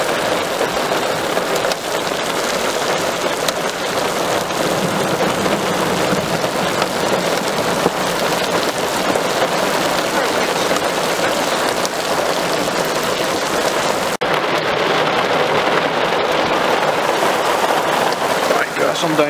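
Heavy thunderstorm rain with hailstones drums steadily on surfaces nearby in Co. Fermanagh, a dense unbroken patter throughout, with a brief sharper shift near the end.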